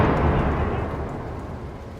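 A storm in a radio drama sends a steady wash of heavy rain hissing under a low thunder rumble that slowly fades. The sound is continuous, moderately loud and has no voices.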